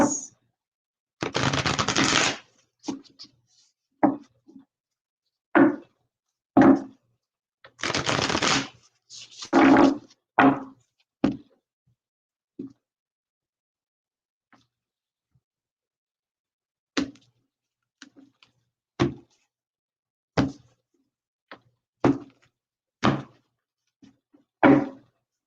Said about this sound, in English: Just one more shuffle here.